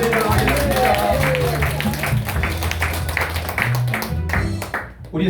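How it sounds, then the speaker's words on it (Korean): A church congregation claps together during a Korean Sunday morning worship service, with a steady wash of applause running under sustained organ or music tones and fading near the end. "우리 하나님께 영광의 박수를 올려드리도록 하겠습니다"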